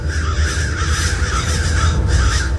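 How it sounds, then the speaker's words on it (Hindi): Several crows cawing harshly over a sugarcane field, loud and close, their rough calls overlapping in repeated bursts as an atmospheric effect in a spooky narrated story. "वही कौवे थे जिन्हें अभी अभी सपने में उसने देखा था।"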